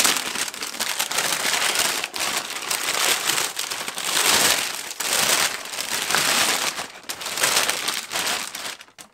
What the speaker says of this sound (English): I know the camera normally picks up quite a lot of the rustling noise,